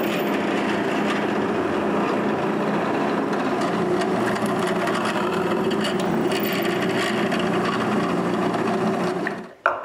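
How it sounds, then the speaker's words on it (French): A power drill bores pilot holes in wood, a loud continuous whirring grind that holds steady for nearly ten seconds and then cuts off abruptly. "Je peux percer les trous pilotes"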